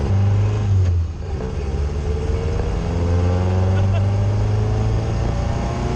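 A forgotten classic car runs on its first drive in 20 years on original tires, its engine droning loud and close with steady low harmonics and slight shifts in pitch. A voice can be heard faintly underneath.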